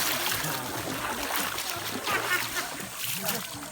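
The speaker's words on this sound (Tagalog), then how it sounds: "Galing mag-swimming ni Dario ah." A child swims in a private pool in a rural setting, making bursts of splashing and sloshing water heard fairly close while people talk over it.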